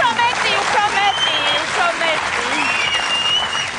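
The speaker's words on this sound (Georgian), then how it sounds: "თქვენი აპლოდისმენტების ქვეშ ვიწყებთ დღევანდელ შოუს" Audience applause fills the room at the start of a comedy show, dense sustained clapping close and loud throughout, with voices and cheers mixed in over it.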